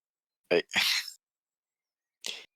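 A short burst of a person's sneeze, close and loud, comes in two sharp bursts, and a smaller sneeze-like burst follows after a second of silence.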